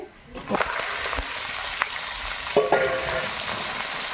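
Mutton with garlic paste sizzles steadily in a pan while being stirred, with a few scraping stir strokes and splattery bursts standing out over the continuous hiss.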